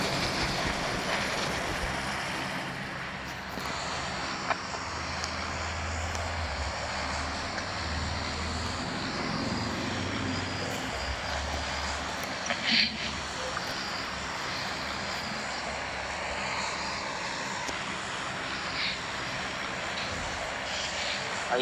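An airplane engine in a flight simulation video game drones steadily and loudly throughout, a constant propeller-like hum with one brief bump partway through.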